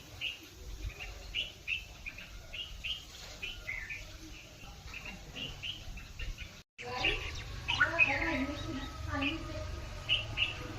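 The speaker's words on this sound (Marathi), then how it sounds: "इथे एवढं छान पक्ष्यांचा आवाज येतोय ना." Small birds chirp outdoors in repeated short, bright calls that keep going throughout, moderately close and fairly clear, with a steady low background murmur beneath them.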